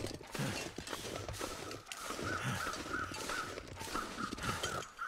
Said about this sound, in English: Here, crows up ahead.